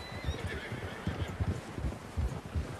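Horses in the Western video game Red Dead Redemption 2, low rhythmic hoofbeats and snorting over a rumbling background, with a faint distant whinny, moderately quiet.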